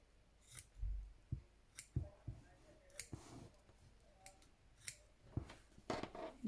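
Scissors trim embroidery thread during hand stitching: a run of crisp, close snips and clicks at an uneven pace, quiet and alone.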